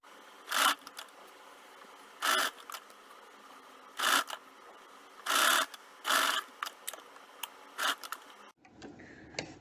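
A home sewing machine stitches a strip around a garment neckline in short separate bursts, each a second or less of whirring, with pauses between them and faint mechanical handling noise, close and moderately loud.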